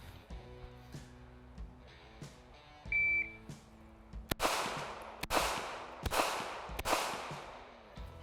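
A CZ P10F 9mm pistol fires four sharp, loud shots during a timed shooting drill, spaced roughly a second apart, after a shot-timer beep and some quieter clicks and handling noises.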